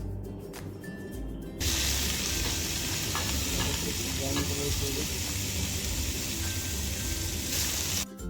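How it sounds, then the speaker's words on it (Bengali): Chopped garlic and prawns fry in hot oil with a loud, steady sizzle that swells sharply near the start and holds constant, with faint stirring clinks underneath. "তেলটা গরম হয়ে গেলে তার মধ্যে দিয়ে দেবো গার্লিক চপ গার্লিকটা ভালো করে ব্রাউন কালার করে এর মধ্যে প্রনটা দিয়ে দেব"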